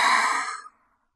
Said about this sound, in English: Deep breath out of your mouth.